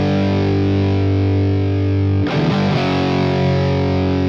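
Distorted electric guitar in a rock riff, a sustained overdriven chord ringing steadily, then a quick ghosted open E strum and choppy picking near the end before the chord rings again, loud and alone.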